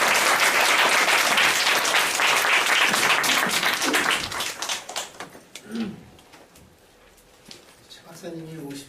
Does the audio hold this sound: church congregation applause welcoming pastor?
yes